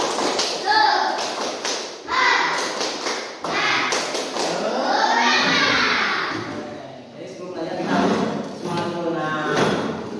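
Schoolchildren in a classroom perform a rhythmic clapping cheer, tepuk semangat, sharp claps in bursts alternating with chanted voices and a teacher talking.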